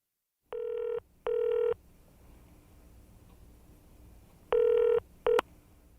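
A telephone keypad sends four DTMF tones to place a call, two steady beeps, a pause, then two more, the last one short, all close and clear over a quiet line.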